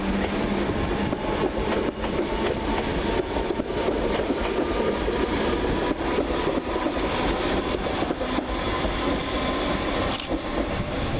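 Two Class 313 electric trains pull away from Preston Park station, a steady loud rolling rumble with wheel clicks and faint squeals as they depart.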